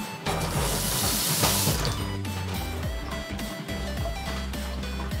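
Water runs steadily from a tap into a sink, with a hiss and splash through the whole stretch, mixed with clinks and clattering of things being handled nearby.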